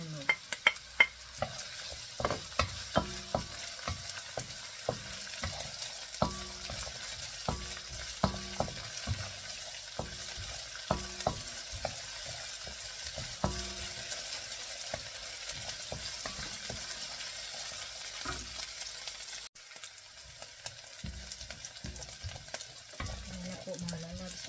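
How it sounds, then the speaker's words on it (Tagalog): Onions sauté in a pan for pancit canton, a constant close sizzle under rapid, repeated spatula scrapes and taps that continue steadily throughout. "lagay na rin natin yung sibuyas para hindi ito"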